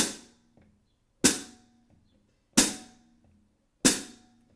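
Hi-hat on a drumset closed by the foot pedal in a swing beat, four crisp chicks evenly spaced on beats 2 and 4, close and clean with nothing else playing.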